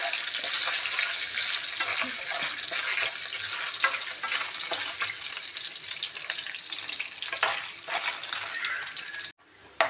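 Ingredients for moong dal halwa fry lightly in a pan with a continuous bright hiss and faint stirring, then the sound cuts off abruptly near the end.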